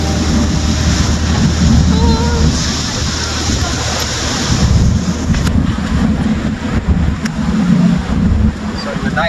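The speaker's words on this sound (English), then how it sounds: "Even though the weather is not in my favor, it is windy and raining" Strong wind buffets the microphone on a boat near Seal Island off Cape Town in rainy weather, a constant loud roar over water with waves beneath. A voice speaks over it.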